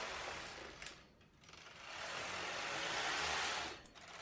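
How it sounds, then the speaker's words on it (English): A machine knitting carriage sweeps across the bed knitting ribbed cast-on rows for tall socks, making quiet whirring, clattering passes with a brief pause between strokes. "We're going to do the normal ribbing cast on with 2 rows of circular yarn to perfect the edge"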